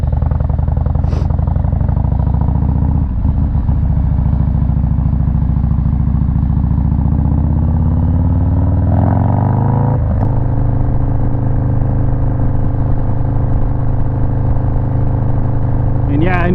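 A Harley-Davidson Low Rider S motorcycle on a Sunday ride, its engine droning loudly and continuously with steady wind rush and a shift in pitch midway as it accelerates, the engine note filling the whole stretch.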